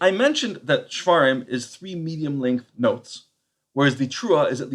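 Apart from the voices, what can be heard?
No everyday noises stand out.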